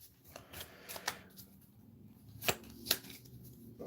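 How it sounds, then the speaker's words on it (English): Deck of item cards for the Conan board game Tower of the Elephant being shuffled on a table, a quiet run of soft riffling rustles punctuated by a few sharper card snaps near the end, with no talking. "I'll give this a shuffle on camera so we know it's all fair and above board,"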